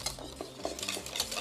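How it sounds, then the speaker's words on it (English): A whisk beats flour into a thin, light batter in a bowl for a Turkish-style brunch, making rapid rhythmic scraping and clinking strokes close by. "And just whisk it well"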